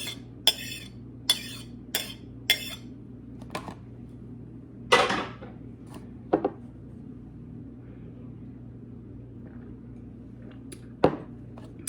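Ceviche ingredients with diced cucumber being mixed in a bowl, a scattered series of sharp utensil clicks and taps against the dish with quiet pauses between, no talking.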